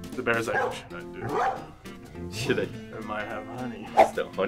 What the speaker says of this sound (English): Wait, and there's a dog inside barking.